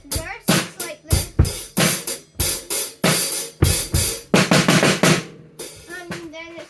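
A drum kit plays a verse beat: a steady, driving pattern of loud kick and snare hits under a constant wash of cymbals, close and forceful, with no voices.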